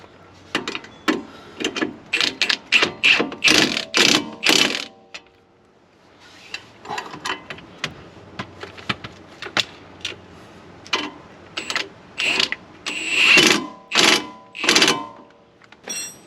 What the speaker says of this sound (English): I'm gonna go ahead and tighten it down. It's a 14 millimeter on this one